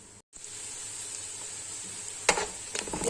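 Onions sizzling in hot oil for a mutton biryani pulao, a steady soft hiss with a couple of brighter crackling flare-ups toward the end.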